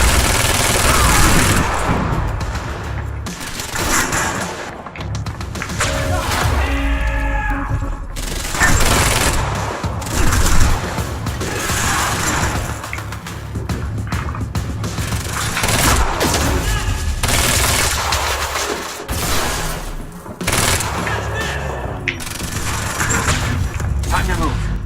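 Sustained, dense gunfire and booming explosions fill a firefight in the video game Quantum Break, with near-continuous bursts and shouted voices mixed in throughout.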